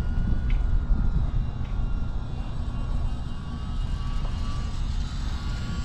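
An E-Flite UMX Waco brushless RC plane's motor running at half throttle in windy conditions: a continuous droning whine with steady wind rumble underneath, no voices.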